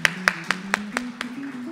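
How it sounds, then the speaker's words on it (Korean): A handful of sparse hand claps at a Korean semiconductor carbon-neutrality conference as guests are welcomed onto the stage, about seven distinct claps at uneven intervals over a steady background tone, without talk. "내빈 여러분들 박수로 환영해 주시기 바랍니다"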